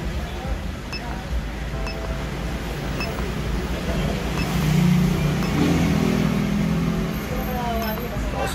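Motorcycle engine running steadily after its idle speed control is reset, a continuous low idle hum with a slight swell midway, heard close.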